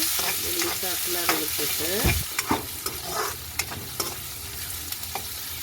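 Chopped onions frying in a pan, a close, steady sizzle broken by repeated sharp scrapes and clacks of a spoon stirring them.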